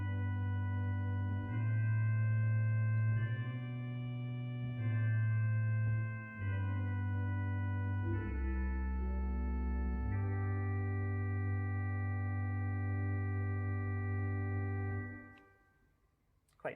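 Church pipe organ in a parish church sounding its soft dulciana stop, a sustained chain of mellow held chords that shift every couple of seconds before fading out near the end, with no talking.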